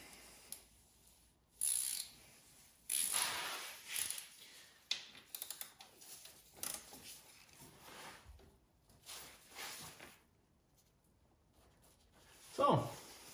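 A ratchet clicks in short, irregular bursts while a fastener is tightened on a 2009 Kymco Agility moped, close and fairly quiet, with a voice talking in between.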